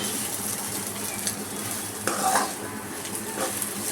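Egg bharta ingredients frying lightly in oil in a pan, with a steady low sizzle broken by a few scrapes and clinks of a spoon against the pan as they are stirred, close up and without voices.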